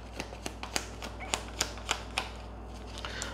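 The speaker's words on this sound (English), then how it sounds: "Such a long shuffle." Tarot cards are shuffled in a series of soft, sharp clicks and snaps, spaced irregularly over a low steady hum with no talking.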